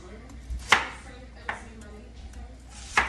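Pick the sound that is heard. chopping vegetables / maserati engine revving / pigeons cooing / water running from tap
chopping vegetables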